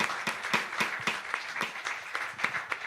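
Church congregation applauding during a service, a brisk crowd of hands clapping steadily and close for a few seconds with no voices over it.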